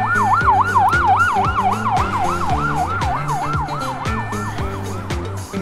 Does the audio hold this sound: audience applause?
no